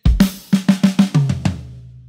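A drum kit plays a chorus pattern at a faster tempo: about eight sharp, close strokes in a quick, driving rhythm, heard alone with the last hits ringing out.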